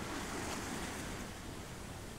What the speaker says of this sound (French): Mais voilà le vent qui se lève. Il souffle de plus en plus fort. Et les vagues se soulèvent de plus en plus haut.